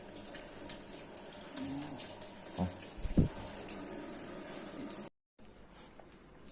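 A sparrow bathing in a shallow dish of water, a steady wet trickle with a few sharper splashes in the middle before the sound cuts out briefly.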